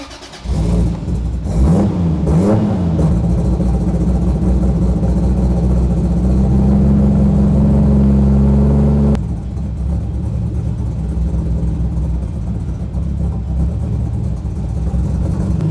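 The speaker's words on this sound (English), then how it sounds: "so now we get some more fuel here, and now it should fire and run." A 1995 single turbo Toyota Supra engine catches and runs, loud and close with uneven revving blips early on, then settling into a steady rumbling idle that drops slightly in intensity partway through.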